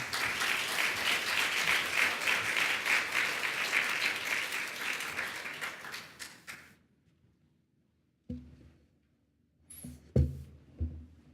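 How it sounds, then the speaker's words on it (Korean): A church congregation at a Sunday service claps loudly and steadily for about six seconds before the applause fades out, leaving a few scattered thumps and taps. "다시 한번 은혜의 말씀을 기대하며 박수로 환영합니다."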